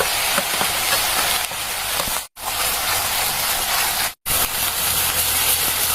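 Onion, garlic and ginger fry in hot oil for a crab curry, giving a loud, steady, close sizzle and hiss with two brief silent breaks.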